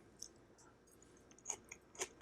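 Crunchy, crispy fiddlehead fern tossed in a ricotta pasta is chewed close up, quiet crisp bites and crunches landing in a few distinct bursts.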